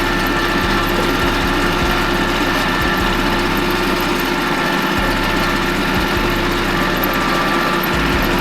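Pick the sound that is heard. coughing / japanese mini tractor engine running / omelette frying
japanese mini tractor engine running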